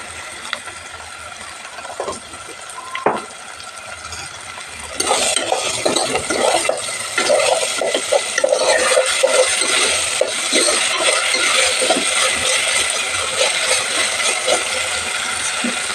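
Biryani rice fries with salt in a pan over a low flame, a steady sizzle and hiss broken by the scrape and clink of a spoon stirring, growing busier after the first few seconds.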